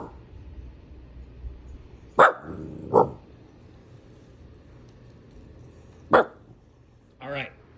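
A guard dog gives a few sharp, loud barks in separate bursts, with a lower growl-like sound near the end, over quiet room tone and faint background noise.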